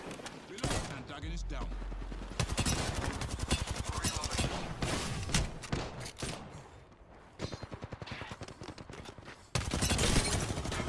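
Rapid bursts of gunfire in the battle royale game Apex Legends, loud and near, with sustained automatic volleys through most of the stretch and a heavy burst at the end, under occasional voices.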